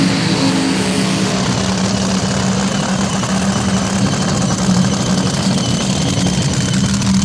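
A rod-built 417 cubic inch nitro-burning top fuel dragster engine at a drag racing event, a loud steady rumbling drone with a strong low hum, continuous and close throughout with no talk.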